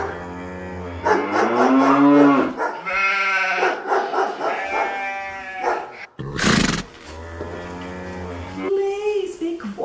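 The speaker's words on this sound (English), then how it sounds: "The crickets chirped, the dogs barked, the cows mooed, and the sheep mooed" Farmyard animals calling in turn: long drawn-out cow moos and bleating-like tones mixed with a few short dog barks, fairly close and loud against a quiet background.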